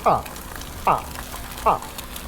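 Sunny-side-up eggs fry on a Pit Boss griddle with a steady low sizzle, while a voice speaks three short bursts over it.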